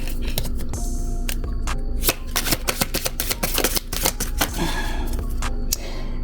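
Tarot cards shuffled by hand in steady riffling bursts of crisp slaps and flutters, close and fairly loud, with a faint hum underneath and no talking.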